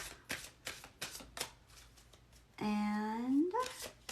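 A few quick, crisp card shuffles close by, followed by a person speaking briefly.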